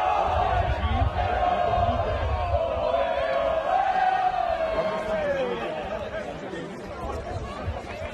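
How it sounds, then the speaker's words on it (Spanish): Barcelona youth team footballers shout a loud, sustained champions' chant together after a match win, a dense crowd of voices bellowing and whooping with steady energy throughout. "les dejamos con este grito de campeones del juvenil del Barça"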